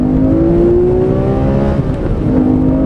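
Porsche 911R under hard acceleration on a public road, a loud engine note rising steadily in pitch, dipping briefly at a gear change before climbing again, with no voices.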